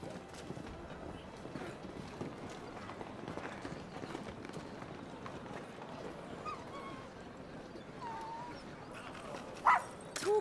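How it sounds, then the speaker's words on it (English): A small dog in the video game Final Fantasy 16 barks a few times amid busy in-game footsteps and ambient game sound, with a sharper burst near the end. "That's a cute little dog."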